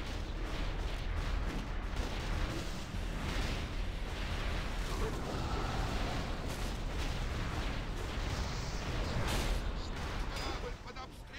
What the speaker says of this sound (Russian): Корабль под обстрелом! Заклинателя сюда! Пусть заткнет эти пушки!